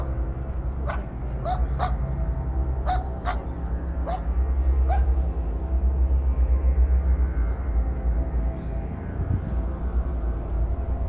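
A dog barks and yips repeatedly in a cemetery, sharp close barks in an irregular series over a constant low rumble, fading to quieter whimpers toward the end.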